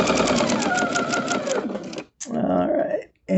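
A sewing machine stitches through quilt fabric triangles for a star-spangled quilt, running in a fast, even mechanical whir for about two seconds, then stopping briefly and starting up again for a shorter burst close by.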